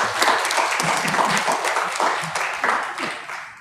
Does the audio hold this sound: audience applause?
yes